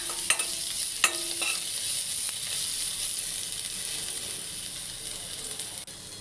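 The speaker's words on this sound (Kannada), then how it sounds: "ಸ್ವಲ್ಪ ಫ್ರೈ ಆಗಬೇಕು." Garlic, ginger and a few green chillies frying in a pan make a soft, even sizzling hiss throughout, with a couple of small clicks early on, fairly quiet and close.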